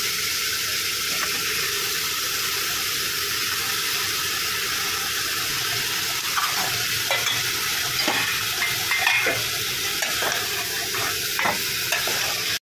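Peas, potato and cauliflower frying for hotel-style pav bhaji, a steady broadband sizzle at close range with intermittent scraping and clacking as the vegetables are stirred.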